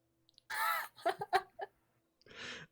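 A person voices imitation bird calls during a tabletop role-playing game, a long drawn cawing cry followed by several short squawks and a final harsh call, close and clear with no other talk.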